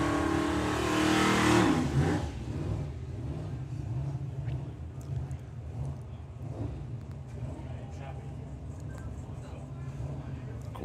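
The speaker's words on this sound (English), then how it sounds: "Tyres on the limit of adhesion there for Graham." Drag racing car launching and accelerating hard down the strip at Bug Jam, a loud close engine roar in the opening seconds that fades into a steady distant drone with crowd and commentary noise.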